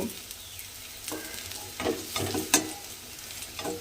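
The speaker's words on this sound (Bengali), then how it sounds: "বেগুনগুলো আমি লাল করে ভেজে নিয়েছি।" Brinjal pieces frying in hot oil for Begun Vola Jhal: a soft continuous sizzle close by, broken by several short scraping bursts of stirring.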